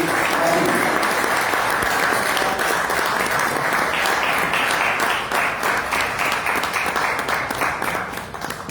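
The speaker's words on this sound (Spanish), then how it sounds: "Recibamos con un fuerte aplauso" Sustained applause from an audience welcoming a doctor to give a talk at a community group gathering, steady and dense throughout, tapering a little toward the end.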